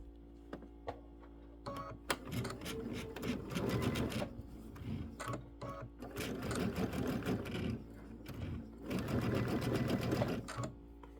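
A domestic sewing machine stitches binding onto a quilted table topper, running in bursts of rapid mechanical chatter with short pauses between them, steady and close.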